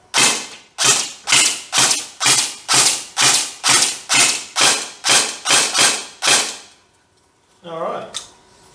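A Cyma SCAR-L gel blaster fires on single fire, about thirteen sharp, evenly spaced shots in a quick steady rhythm, followed by a short pause and a faint mechanical rattle.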